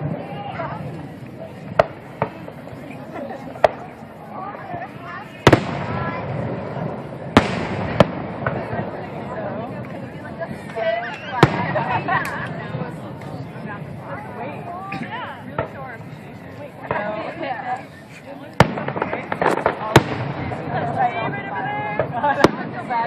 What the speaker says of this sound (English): They have all different rockets.